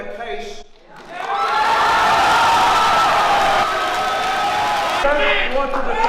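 Restless protest crowd shouting at a blockade, a dense roar of many voices and cheers building after a brief lull and holding loud and close for several seconds.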